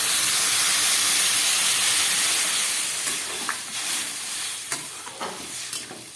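Water poured into a pan of sautéed vegetable khichuri hits the hot pan with a loud, broad sizzling hiss that slowly eases, followed by a few soft stirring scrapes near the end, close by and with no talking.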